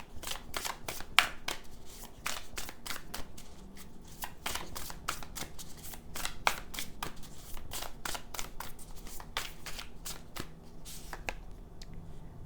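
Deck of cards being shuffled over and over for a pick-a-card reading, a fast run of crisp riffling snaps and flicks in bursts that go on steadily and close, with no talk.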